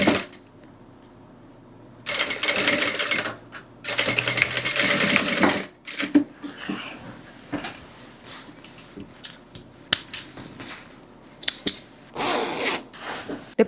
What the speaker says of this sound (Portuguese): eu vou descer costurando rente aqui o trilho do zíper